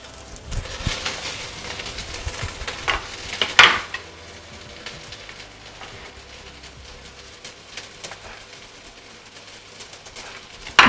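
Onions and veal frying in hot oil in a pan, a continuous crackling sizzle with sharp spikes from stirring and utensil clatter, loudest at the start and settling into a quieter steady fry.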